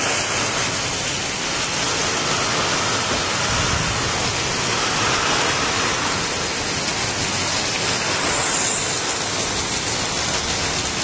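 Unseasonal heavy rain with gusting storm wind in Sudhagad, Raigad pours down as a thick, loud, continuous wash of noise, with occasional deeper surges of wind through trees.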